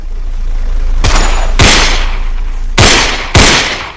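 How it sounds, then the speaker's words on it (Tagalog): Four loud, sharp gunshots ring out in quick, uneven succession, each followed by a short echoing tail. "sunod-sunod ang putok. Malalakas, mabilis, at walang nakapigil"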